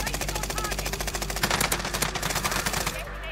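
Rapid automatic gunfire in the video game Call of Duty Warzone, sustained bursts of sharp close shots that fade out near the end, with a low steady hum beneath.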